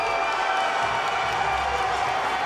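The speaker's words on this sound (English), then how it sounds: "This crowd is going nuts for Easton." A fight crowd roars and cheers for Easton Edmond in his bout against Tomas Vazquez, a loud, continuous wash of shouting and crowd noise with no letup.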